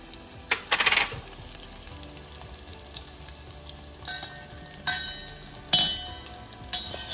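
Spices such as cumin, urad dal, green and red chillies and peppercorns crackle in hot oil for a tempering, with a dense burst of sharp pops early on and scattered louder crackles later over a low steady sizzle.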